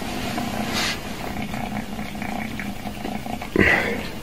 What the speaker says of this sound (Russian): как мурчит